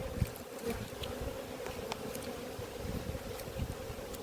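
Honeybees at an apiary hive drone in a steady, faint, continuous buzz, with occasional individual insects passing close by and no talk.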